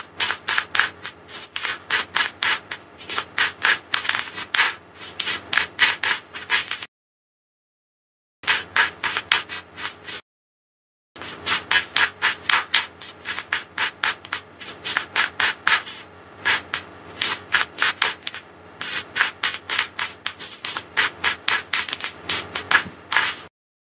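A tarot deck is shuffled by hand in fast, rhythmic rubbing and riffling strokes, close and steady, with two short silent breaks and no voices.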